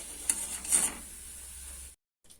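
Semolina pitha fry in a pan and are turned over. A soft, steady sizzle carries two brief scraping clinks of the flip, then cuts off abruptly.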